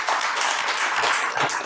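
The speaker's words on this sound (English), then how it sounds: "let's give a round of applause for them" An audience at a .NET conference keynote bursts into applause, dense steady clapping from many hands, close and full throughout.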